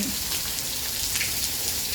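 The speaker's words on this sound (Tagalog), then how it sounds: "Lakas ng ulan." Steady, dense rain hiss with scattered drop patter, a continuous wash of noise with no voices.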